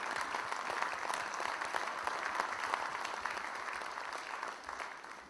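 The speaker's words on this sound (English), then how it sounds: "I'd love to have the men in this audience give a round of applause" Conference audience applauds in recognition of Women's History Month, a steady even clapping heard at some distance and fairly faint, continuing throughout and slowly easing toward the end.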